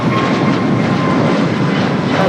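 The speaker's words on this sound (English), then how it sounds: "There is a Delta A321neo rolling down the 24 left" A Delta A321neo airliner on its takeoff roll down runway 24 left at LAX produces a loud, steady, close broadband engine roar with a faint high whine running through it, with no voices.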